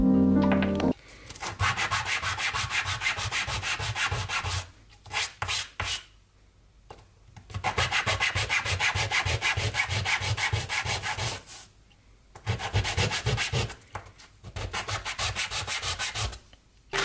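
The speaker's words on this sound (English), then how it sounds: "the first part when I did this was to sand all the interior faces of these pieces" The interior faces of 3D printed plastic puzzle pieces are sanded by hand, a loud close rasping scrub in fast back-and-forth strokes, repeated in long bursts separated by brief pauses.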